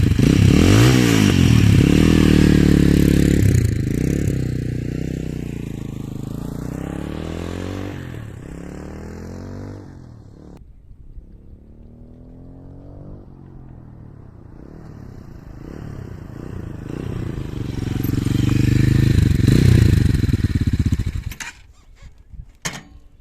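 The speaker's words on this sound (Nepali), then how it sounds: "यही थियो होइन यसको ओरिजिनल एक्जस्टको साउन्ड चाहिँ" Motorhead Scrambler 250 motorcycle on its original stock exhaust, engine running loud and close with a throaty idle that rises and falls through revs, easing down mid-way then climbing again before cutting off near the end.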